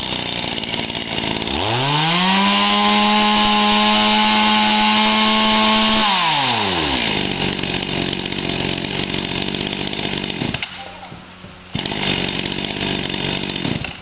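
A Japanese chainsaw revs up hard, holds a loud, steady high whine for several seconds, then drops back to a rough idle that continues to the end, briefly cutting out near the close.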